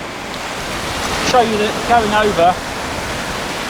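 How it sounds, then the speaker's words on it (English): Beach waves wash in as a steady broadband surf roar, with someone talking briefly over it in the middle. "You can see these waves are going to threaten us once again, because it already keeps coming up over."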